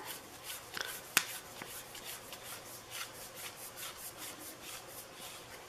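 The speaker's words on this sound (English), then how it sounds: "Thread the lens into the scope tube." An objective lens being threaded into a scope tube during a DIY scope repair, giving soft, steady rubbing and scraping of metal threads with a couple of sharper clicks early on, close and quiet with no talk.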